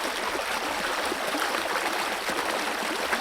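Fresh stream water at a nameless waterfall in the Andaman Islands pours into a bottle, a close, steady rushing trickle with a bright splashy hiss and no voices.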